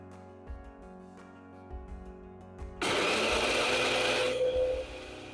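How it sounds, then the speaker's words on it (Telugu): A kitchen mixer grinder starts up after a quiet stretch with background music, whirring loud and steady for about two seconds as it powders dried red chillies, then winding down. "ఈలోపు మనం మిక్సీలో వీటిని పొడి చేసుకుందాం ఇందులో ఒక ఐదారు ఎండుమిర్చి వేసి పౌడర్ చేసుకోండి"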